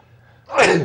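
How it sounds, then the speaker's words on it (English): A quiet moment, then a single sharp, breathy sneeze bursts out close to the microphone. "I'm so glad the nation can enjoy my girlish sneezes."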